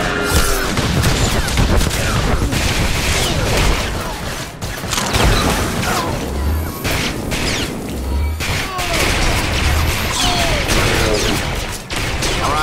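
Blaster gunfire in a Star Wars: The Old Republic Tatooine fight, rapid overlapping shots and crashing impacts in a loud, busy barrage with heavy thumps, a voice heard faintly among it.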